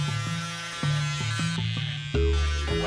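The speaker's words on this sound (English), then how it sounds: "Now we're taking that foil shaver right beneath that." A foil shaver buzzes close up while trimming hair during a fade haircut, a steady motor hum that shifts pitch and intensity in several abrupt steps as it moves against the head, with no talk.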